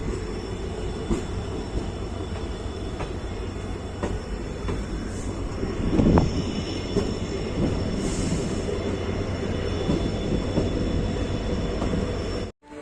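The Uttar Sampark Kranti Special Express rumbles steadily through Kathgodam station, a loud, continuous rolling roar of railcars with a brief rise in wheel noise midway before cutting off.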